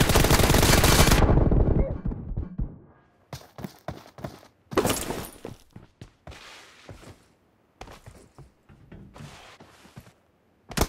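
Gunfire in the video game PUBG opens with a loud automatic burst. Scattered single shots and short volleys follow at lower volume, with quiet gaps between them.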